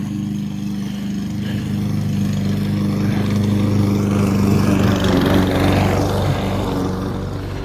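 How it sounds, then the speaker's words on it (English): A lawn mower engine drones loudly and continuously nearby, its steady rumble swelling slightly midway through. "Hold on, lawnmower."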